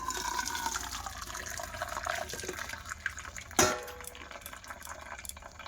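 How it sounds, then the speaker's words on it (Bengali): Boiled pasta and its water pour into a colander, a steady rushing splash of draining liquid with a brief clunk partway through. "সিদ্ধ করে এই ঝাঁকারটার মধ্যে দিয়ে দেব জল ঝরাতে"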